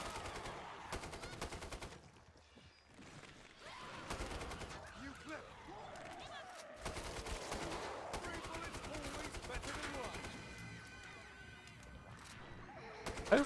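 Rapid gunfire from the video game Killing Floor 2, dense bursts of automatic shots crackling through most of the stretch amid game noise, with a brief lull early on and a loud spike at the very end.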